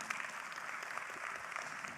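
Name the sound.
audience applause at leadership training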